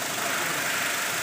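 A Honda Mobilio idles with its extra AC fan running, giving a steady, close mechanical hum and whir with a faint engine rumble beneath, unchanging over one short stretch.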